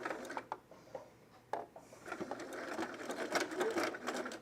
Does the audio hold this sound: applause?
no